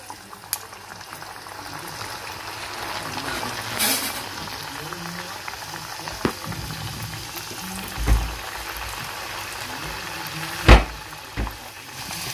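Samosas bubble and sizzle in hot oil in a pan with a steady, close boiling crackle, broken by a few scattered louder knocks and clatters.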